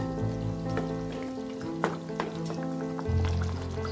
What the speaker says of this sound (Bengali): এবার আমি মাছের ডিমের বড়াগুলো দিয়ে দেবো। দিয়ে গ্যাসের ফ্লেমটাকে হাই করে দেব।